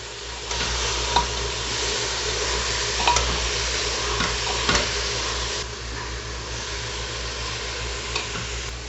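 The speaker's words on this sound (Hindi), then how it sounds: "इसको चला लेंगे" Finely cut cabbage sautés in a pan with a continuous soft sizzle, punctuated by a handful of scraping knocks from a spoon stirring at irregular intervals; no speech.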